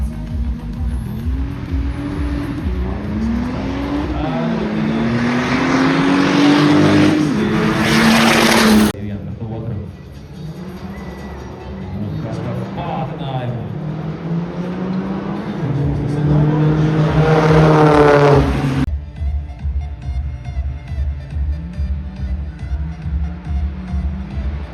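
Race cars driving on a track, played back from a recording: engines rev and whine with rising and falling pitch and occasional tire squeal, under someone talking over much of it.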